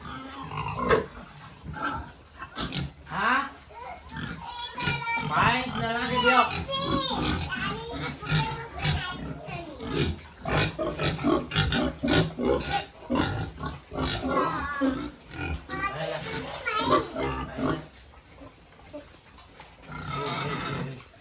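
Pigs grunting in an indoor pen, with short snorts and oinks coming through steadily over the whole stretch, mixed with nearby people talking.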